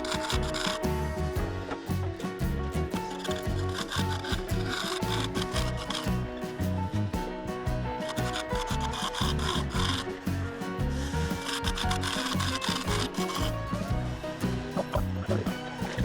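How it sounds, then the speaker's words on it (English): A woodturning scraper works the inside of a dense wood bowl on a lathe, giving a continuous loud rasping scrape that pulses steadily with the spinning wood, close up and without talk. "Raising the center there and giving it a quick scrape out, making sure that transition is nice and smooth."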